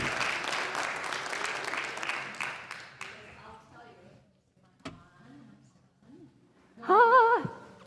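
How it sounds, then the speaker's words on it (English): Applause for a band at a church service in the first three seconds, fairly close and brisk, then dying away into quiet before a voice speaks. "Can you give these guys another round of applause,"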